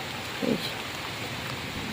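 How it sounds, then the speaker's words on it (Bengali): Steady rain falls outside a village house, a continuous even hiss of drops that stays constant throughout, with one brief low thump early on. "এই দেখো বাইরে কীভাবে বৃষ্টি হচ্ছে"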